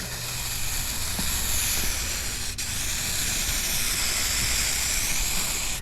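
Rust-Oleum Turbo flat black spray paint sprayed from about five inches away, a continuous airy hiss lasting several seconds with a brief break in the middle, close and fairly quiet.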